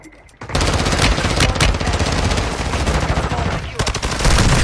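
Rapid, loud gunfire from the Call of Duty: Warzone video game, dense bursts rattling continuously across the whole stretch, with no voices over it.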